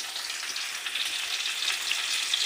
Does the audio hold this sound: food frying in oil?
yes